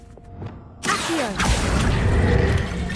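Accio summoning spell cast in Hogwarts Legacy, a sudden loud magical whoosh with swirling, rising tonal sweeps and a rumbling, mechanical rush that sustains to the end.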